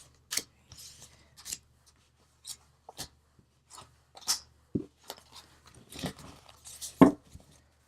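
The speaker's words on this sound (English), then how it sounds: "let's pull 6 cards." Tarot cards are pulled from a deck one at a time, making soft, sparse rustles, slides and light snaps up close against a quiet background.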